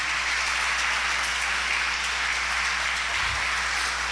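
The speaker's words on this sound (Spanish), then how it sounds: "Dale ese aplauso al Señor." A church congregation at a Spanish-language service claps for the Lord, a steady, moderately loud hiss of many hands over a low hum, with no speech.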